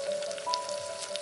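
Green chillies, garlic and ginger sizzle steadily in hot oil during tempering for an aloo dal, a soft continuous crackle with a faint tone underneath and no voices.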